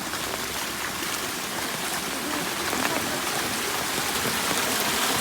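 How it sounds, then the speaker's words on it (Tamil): Heavy rain pours steadily over a village, a dense, loud and unbroken hiss of water with no let-up, heard close and alone. "ஐப்பசி மாதம் வந்துச்சு மழை."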